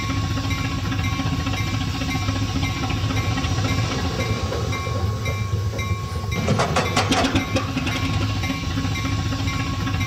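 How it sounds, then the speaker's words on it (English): Steam locomotive P&B Pacific #1086 being moved on rails into restoration shops, a steady mechanical rolling drone with a burst of sharp clanking and squealing partway through. "the steam crew wastes little time getting the engine moved indoors"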